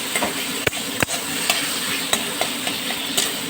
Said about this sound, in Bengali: হলুদটাও দিয়ে দিলাম এবার কুঁজি দিয়ে নাড়াচাড়া করে দেবো